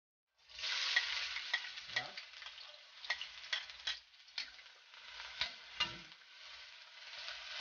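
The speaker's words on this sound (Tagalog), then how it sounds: "Mantika guys ay mainit na. Unahin natin ang ating sibuyas." Onions drop into hot oil for a chili sauce and burst into a bright, close sizzle that continues throughout, with scattered scrapes and taps of a stirring spoon.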